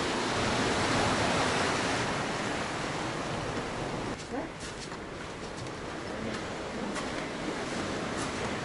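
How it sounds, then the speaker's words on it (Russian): Sea surf rolling onto a beachfront, a broad continuous wash of waves heard up close and fairly steady, with a slight dip partway through. "Первая линия. Шум моря."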